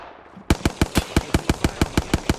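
Automatic gunfire in a video game fight, a rapid burst of about thirteen evenly spaced loud shots after a brief quiet start.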